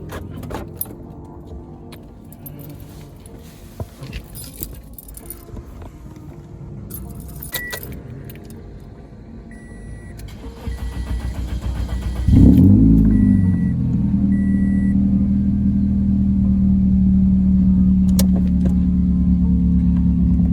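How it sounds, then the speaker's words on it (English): A 2003–2007 Toyota Corolla engine cranks and catches at about twelve seconds, then settles into a steady, loud idle rumble; keys jingle faintly beforehand. "I'm gonna cut on the vehicle and just let it sit and idle for a little bit"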